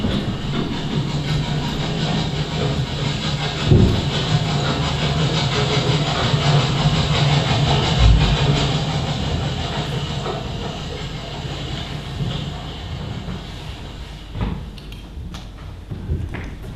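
A steam train rumbles past on a railway line, a continuous loud roar with hissing and rhythmic clatter lasting throughout, with a couple of sharp knocks along the way.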